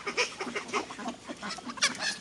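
Farm geese honk and cackle in a rapid, overlapping chorus, several birds calling close by in uneven bursts, fairly loud and with no talking.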